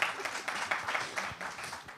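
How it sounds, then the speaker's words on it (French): Faint, scattered applause from a modest audience at a regional industry round-table in Brittany, a short burst of separate hand claps that tapers off after a couple of seconds. "Oui, on peut applaudir."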